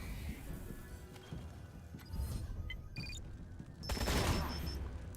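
Video game gunfire in Wasteland 3 arrives as a dense burst of shots and impacts over steady background game noise, swelling louder toward the end.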